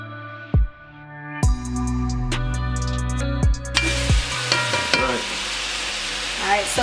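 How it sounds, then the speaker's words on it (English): Cabbage and saltfish sautéing in a pan, with sharp clanks and scrapes of a utensil stirring against the pan, then a steady hiss of sizzling building up underneath. "so you want to saute it for about 2 to 3 minutes"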